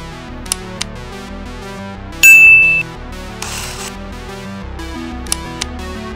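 A bright notification bell dings once at mid-clip amid a soft electronic music bed, with sparse faint clicks and a brief whooshing swell nearby; no voices.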